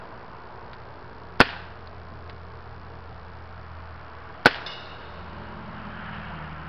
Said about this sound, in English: hopefully you can hear the tinks where it's actually hitting